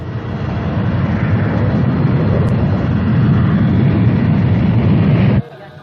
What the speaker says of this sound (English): They scrambled into the baggage compartment and clung to the stairway as the plane took off.